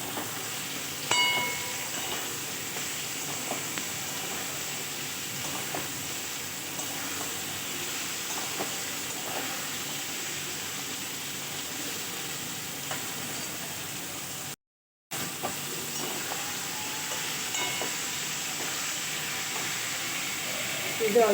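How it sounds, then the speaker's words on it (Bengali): Potatoes for a jeera aloo curry frying with salt in a pan, giving a steady, even sizzle with faint stirring scrapes throughout and one brief dropout near the end. "আলু ভালোভাবে কষিয়ে"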